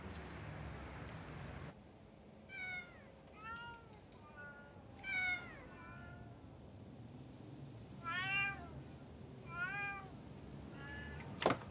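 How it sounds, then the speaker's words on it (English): Domestic cats in a Tokyo cat cafe meow repeatedly, about seven separate rising-and-falling calls spaced across the stretch over a quiet room hum, moderately near and clear. "A realm entirely devoted to cats"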